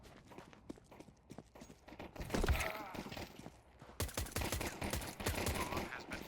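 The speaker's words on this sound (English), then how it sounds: "Shoot way slower. Way slower. You're shooting too fast." Gunfire in a first-person shooter on the Mirage map, quick bursts and single sharp shots mixed with footsteps and game noise, fairly faint, with louder clusters midway and toward the end.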